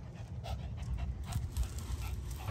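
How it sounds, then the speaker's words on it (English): A small dog pants quietly and rapidly in a steady rhythm, close by and soft, with no speech over it. "I have a dog that was featured in Nintendogs"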